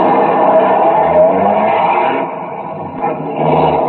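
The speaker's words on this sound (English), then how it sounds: "half the Dragnet crew pulled out of the police garage and scattered over the city to their places" Police cars pulling out of a police garage as a radio drama effect, several engines running and revving together with a steady rumble, briefly dipping before swelling again, loud and close with no voices.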